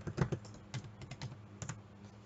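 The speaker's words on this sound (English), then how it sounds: "now I'm writing my password" Quiet, close typing on a computer keyboard as a password is entered, a short irregular run of soft key clicks with slight pauses.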